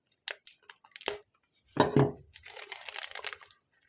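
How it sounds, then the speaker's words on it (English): Plastic packaging snipped and torn open with pliers, a few sharp clicks followed by crinkling and ripping at close range. "I'll cut this open"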